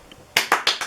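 Four quick, sharp claps from children at a puppet theatre opening ring out close and distinct at an even pace, after a brief quiet lead-in.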